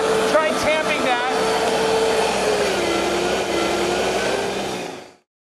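Vitamix blender crushing ice into snow, a loud continuous motor whine with grinding ice that stays steady, then cuts off abruptly near the end, with a voice talking briefly over the start.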